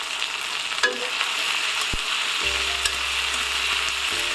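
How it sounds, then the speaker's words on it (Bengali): Chopped onion, ginger and green chili fry in a pan with a steady, close sizzle, broken by a few sharp clicks and scrapes of stirring and a low hum toward the end. "পেঁয়াজ এবং আদা এবং পেঁয়াজ কুচিগুলোকে একটু ভেজে নেব।"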